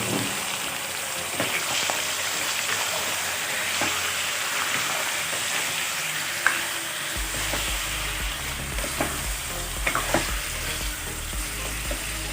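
Chicken pieces sautéing in a pan with garlic and onion for Filipino-style chicken afritada, a continuous loud sizzle with occasional stirring scrapes and clatters.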